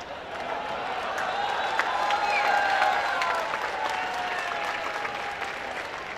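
Steady applause from a circus audience at the Lucky Irani Circus in Pind Dadan Khan: dense, sustained clapping that fills the whole stretch, with faint tonal sounds running beneath it.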